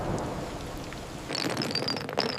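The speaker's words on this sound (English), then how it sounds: "the rain is stronger now. yes, it is heavy rain." Heavy rain lashes down on a house during a storm, a thick continuous roar that swells louder and harsher partway through as the downpour intensifies, with no one speaking.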